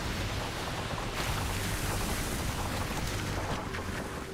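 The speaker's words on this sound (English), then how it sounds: "In icebreaking mode, it sails stern first or backwards." Icebreaker ship Aker CS 650 sailing stern first through ice, giving a steady, dense rumble and wash of engine and grinding ice, with wind buffeting the microphone, continuous and fairly loud throughout.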